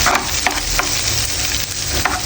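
Egg being stirred in a hot frying pan, a steady sizzle with light scraping strokes of the utensil, close and continuous with no talking.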